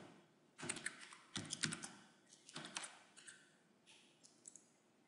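Quiet bursts of typing on a computer keyboard, with clusters of quick key clicks separated by short pauses and no one talking.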